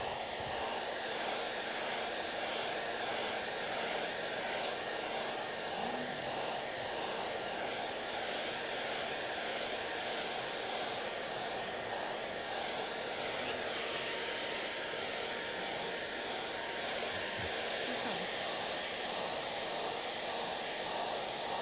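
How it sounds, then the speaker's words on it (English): A hair dryer blows steadily and loudly, an unbroken whooshing hiss that continues throughout with no talking. "Oh, Claire, hairdryer."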